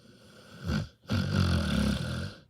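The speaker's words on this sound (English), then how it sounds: "Oh, big snores." A sleeping dog, Clifford, gives two deep, rumbling snores close by, a short one followed by a longer drawn-out one after a brief pause, with no talking.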